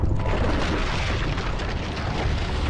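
A loud, rumbling blast from a shot of the Odin weapon in Call of Duty: Ghosts fills the clip with dense, booming noise that stays heavy throughout.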